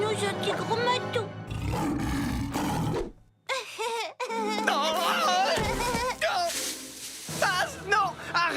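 A lion roars in a French-dubbed animated cartoon, loud and sustained over busy music and effects, with voices talking around it.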